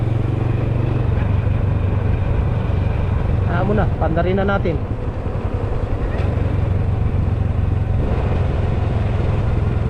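A motorcycle engine runs loudly and close on a rocky downhill ride, a steady rumbling drone throughout with a brief voice speaking over it midway.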